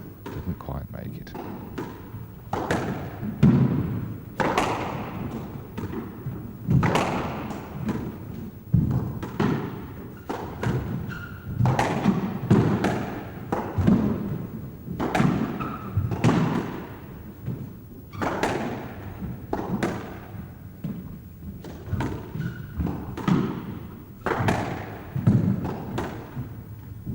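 Squash ball thudding off court walls and rackets during a 1999 match, repeated sharp knocks at an irregular rally pace, with speech heard throughout the clip.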